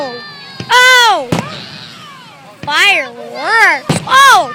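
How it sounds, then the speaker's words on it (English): Fireworks burst over a beach in loud, sharp bangs, several close explosions spaced a second or so apart, while excited voices shout and exclaim between and over them. "Fireworks!"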